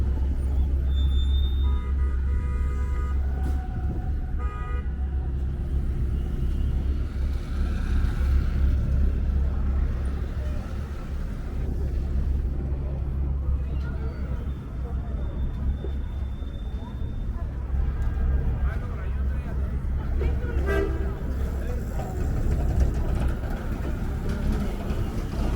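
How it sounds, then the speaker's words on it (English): Busy street traffic on 6th Avenue in New York City, a steady low rumble of passing cars and engines throughout, with faint voices and brief higher noises over the constant city drone. "See all this traffic."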